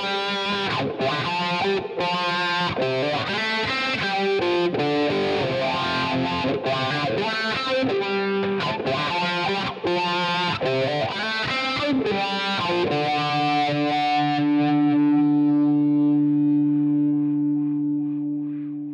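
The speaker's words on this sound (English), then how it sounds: "if we leave it as it is, and engage the wah, we should get the sort of..." Electric guitar through a Line 6 Helix with a Soldano amp tone and wah engaged, playing a busy distorted lead line of fast notes that ends on a long sustained, ringing chord, loud and alone.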